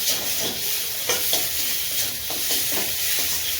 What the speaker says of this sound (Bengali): এই কড়াইতে যে পেঁয়াজ ভাজা বসিয়ে দিয়েছি, তার সাথে আদা রসুন বাটা দিয়েছি